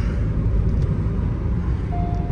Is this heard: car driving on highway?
yes